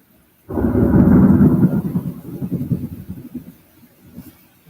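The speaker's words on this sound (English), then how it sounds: "it's pouring rain out there now" Heavy rain pours outside during a thunderstorm as a loud thunder rumble bursts in suddenly, swells, then slowly fades into a steady wash of rain.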